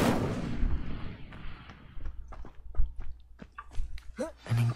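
A fire spell cast in a video game bursts out loud and crackling, then fades into scattered pops, thuds and clicks under faint background voices.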